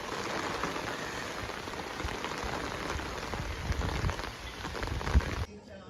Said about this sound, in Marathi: किती सुंदर पाऊस पडतोय